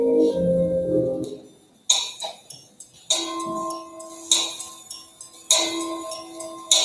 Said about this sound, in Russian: Ты слышишь? Это колокола памяти.